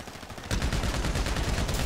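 Sustained gunfire in the game GTA Online, likened to New Year's fireworks, bursts in loudly after a quiet half-second and keeps crackling in a dense, rapid, unbroken volley with no talking.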